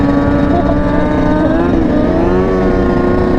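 A big motorcycle rolls past in a busy lot, its engine a steady, loud drone with a harmonic whine that holds throughout without breaks.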